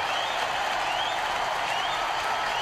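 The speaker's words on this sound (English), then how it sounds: "the Tampa Bay players are applauding as fiercely as anyone" A baseball stadium crowd, with Tampa Bay players joining in, applauds Mariano Rivera in a broad, roaring wash of distant clapping and cheering that holds steady throughout.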